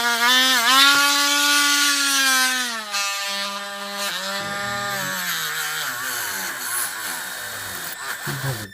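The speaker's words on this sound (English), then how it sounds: "Use just this brass polishing brush that's kind of forward facing." A rotary brass polishing brush whines loudly as it spins against the RCA jacks of a Marantz 2110 tuner. Its motor pitch dips and wavers as it is pressed into the metal, then steadies, with no talking.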